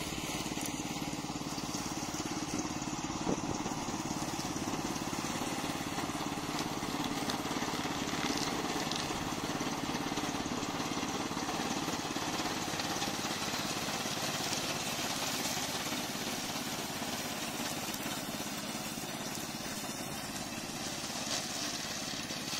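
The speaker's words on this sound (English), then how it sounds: "Today I will introduce our remote control mower." Gasoline engine of a remote control lawn mower with a 550 mm cutting width runs continuously, a steady mid-pitched rattling drone at moderate distance with little variation and no talking.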